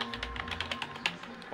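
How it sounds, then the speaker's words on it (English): Typing on a computer keyboard of an older Core 2 Duo PC, a quick run of close, crisp key taps in an uneven rhythm, with no talk over it. "You don't see any mistake in my typing."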